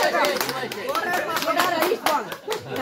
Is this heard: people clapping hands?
yes